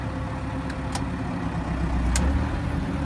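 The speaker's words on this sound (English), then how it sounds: "This tractor still drives." The engine of a 5711M tractor runs at a steady idle close by, a continuous low mechanical rumble with a couple of faint clicks on top and no speech.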